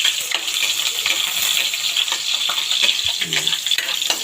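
Garlic and onion sautéing in a frying pan for squid adobo, a steady close sizzle with scattered stirring clinks throughout, and no talk.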